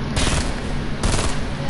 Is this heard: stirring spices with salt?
no